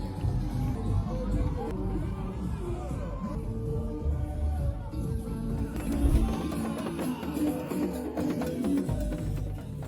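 Crowd at a political rally in Tiasalé, Côte d'Ivoire, a dense outdoor babble of many voices with shouts and movement, steady and fairly loud throughout.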